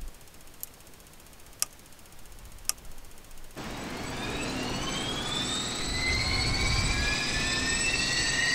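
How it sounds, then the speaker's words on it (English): The left engine of a Jetstream 41 turboprop starts in a flight simulator: a few sharp cockpit clicks, then a sudden loud spool-up whose rising whine climbs steadily and grows stronger. "Start left engine. Starting left."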